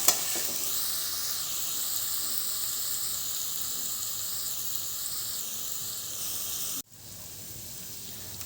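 Boiled potato pieces sautéed in a hot spiced tempering for sabudana khichdi, giving a steady, close sizzle and frying hiss that runs on evenly, then drops suddenly to a quieter sizzle near the end.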